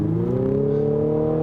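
A 2021 Infiniti QX50 Autograph engine drones steadily under acceleration, its buzzing tone rising gently in pitch and holding loud and close throughout with no talk.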